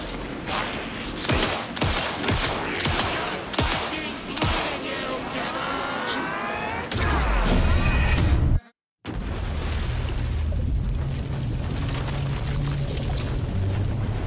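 Gunfire in the video game Alan Wake 2, a run of sharp, loud shots in quick succession, followed by a brief dropout and then a lower rumbling ambience.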